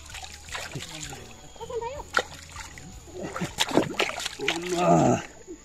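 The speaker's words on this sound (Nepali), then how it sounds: "यहाँ खुट्टा धुवाइ हुँदैछ त" Water splashes and sloshes in short bursts as feet are rinsed, with people chatting close by between the splashes.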